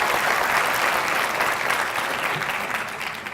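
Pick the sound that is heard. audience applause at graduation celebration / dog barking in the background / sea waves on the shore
audience applause at graduation celebration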